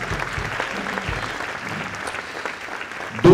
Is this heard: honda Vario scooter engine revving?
no